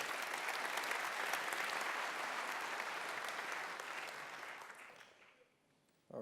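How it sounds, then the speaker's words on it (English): A crowd applauds steadily, the clapping dense and even before tapering off into quiet near the end. "Applause, please."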